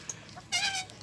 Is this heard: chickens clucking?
yes